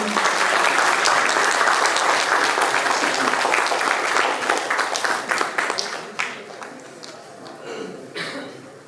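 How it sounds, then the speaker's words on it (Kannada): An audience at the inauguration of a Dalit literature conference bursts into loud, dense applause that holds steady for several seconds, then thins into scattered claps and fades. "ಮತ್ತೊಮ್ಮೆ ತಮ್ಮೆಲ್ಲರ ಚಪ್ಪಾಳೆ ಮೂಲಕ"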